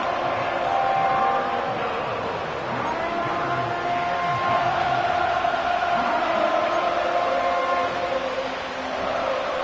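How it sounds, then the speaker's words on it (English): A football stadium crowd roars in a steady, dense wash of cheering ahead of a third-down play, with a commentator talking over the noise. "This crowd into it now as we get to third down."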